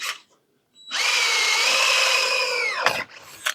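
A power drill bores with an old, hand-resharpened bit while working on excavator pins and bushings, a loud, steady whine lasting about two seconds, starting after a brief pause and ending with a clunk and clatter.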